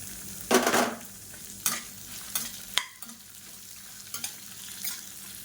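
Ingredients for a three-lentil chutney sautéing in a pan, a soft continuous sizzle broken by several sharp scraping stirs of a spoon, close and fairly quiet, with no voices.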